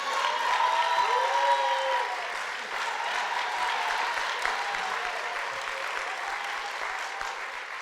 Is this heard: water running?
no